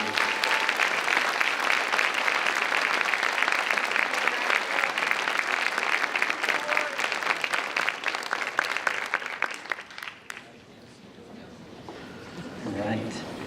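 Audience applause for inductees at a high school academic honors society ceremony, a dense sustained clapping that fills the room for about ten seconds before thinning out and fading, with a few scattered claps trailing off.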